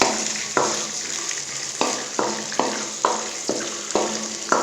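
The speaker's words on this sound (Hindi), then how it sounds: "बादामों को अच्छे से करेंगे गर्म। इनको थोड़ा सा रोस्ट कर लेंगे।" Almonds roast and sizzle in a pan, a steady frying hiss broken by regular scraping stirs about every half second, close and clear with no talk.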